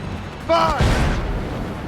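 Ship cannon firing in the naval game Assassin's Creed Rogue, a deep booming blast with a rumbling tail, preceded by a brief sharp tonal sound and followed by lingering low battle noise.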